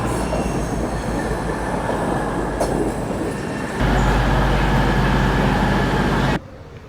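A train pulling into Berwick-upon-Tweed station, a loud steady rumble of wheels on rails with a squeal, shifting to a deeper drone before cutting off abruptly.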